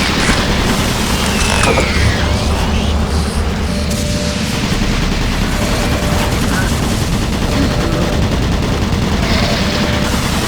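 Automated turret guns in DOOM 3 keep up dense, rapid mechanical firing with a constant loud rattle and clatter through the whole clip, over a heavy industrial background hum.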